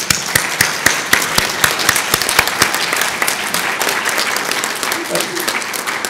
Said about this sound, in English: I would like everyone to give us them one final warm round of applause.